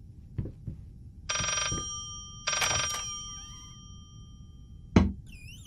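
An old telephone bell rings twice in the Layers of Fear horror game, each ring a buzzing burst separated by quiet, with soft thumps before, a sharp knock afterward and a faint meow-like cry at the end.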